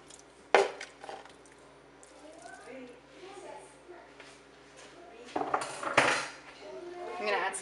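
Raw chicken goes into hot oil in a pan, with a few sharp metallic clatters of pan and utensils over a quiet kitchen background.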